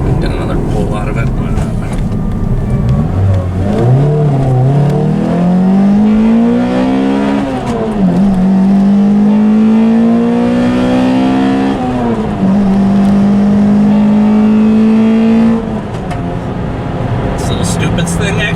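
A Pontiac Vibe GT with a 2ZZ-GE engine and reworked exhaust is revved hard toward 8,000 RPM. The pitch climbs, drops and climbs again across several loud, sustained pulls.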